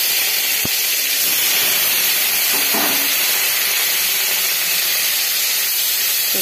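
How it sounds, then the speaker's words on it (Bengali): Dried fish fries in hot oil with a loud, continuous sizzling hiss that fills the whole stretch, broken only by a faint clink or two. "শুটকি মাছগুলোকে ভেজে নিচ্ছি।"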